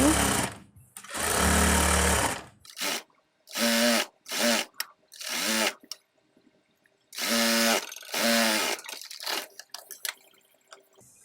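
A sewing machine stitches a burqa seam in several loud, rapid bursts of mechanical clatter separated by short silent pauses, with a few faint clicks toward the end.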